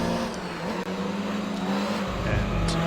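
A race car engine in Gran Turismo 3 drones at a sustained high pitch while chasing a Corvette, shifting tone near the end as revs change, with faint tire noise and a quiet voice underneath.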